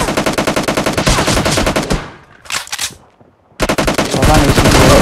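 Loud automatic gunfire from PUBG Mobile during a Team Deathmatch on the Warehouse map: rapid, dense bursts that stop for about a second, a short burst in the pause, then heavy firing resumes.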